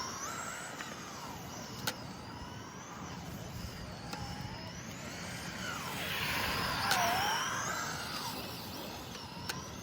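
A Traxxas RS200 RC car drives and turns, its electric motor whining up and down in pitch, nearby and fairly loud, with a few sharp clicks.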